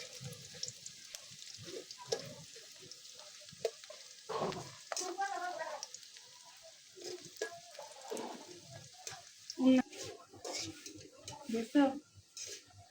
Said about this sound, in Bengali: পেঁয়াজটা আমি দিয়ে দিচ্ছি, দিয়ে একটু ভেজে তুলে নেব এই পেঁয়াজটা